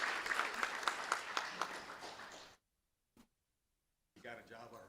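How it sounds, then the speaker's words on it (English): Board meeting audience claps for Mr. Mann, a few seconds of moderate applause with distinct individual claps, then silence, a brief knock, and renewed room noise with talk. "let's give a round of applause to Mr. Mann"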